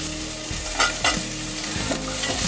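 Sardine curry ingredients sauté in a pan with a little coconut added, sizzling steadily while a spatula scrapes through them in quick, regular strokes, close and clear with no voices.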